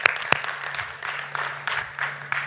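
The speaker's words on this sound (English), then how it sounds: "Thunderous applause." Applause at an alumni meet event, a scattered crowd clapping with a few sharp, prominent claps near the start over a low steady hum, the clapping rising and falling in loose bursts.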